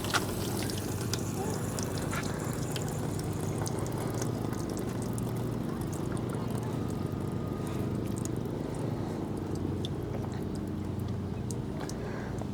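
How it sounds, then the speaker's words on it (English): Water drains steadily from an RV water heater system on a Wildwood 236BHXL travel trailer, a constant low rushing and gurgling flow heard up close for the full stretch. "We're going to go ahead and vent the system out and get all the pressures off the lines."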